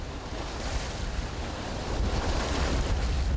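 Ocean surf rolls onto a windy Jeju Island beach, a loud continuous wash of breaking waves mixed with gusting wind that grows slightly stronger toward the end, with no voices.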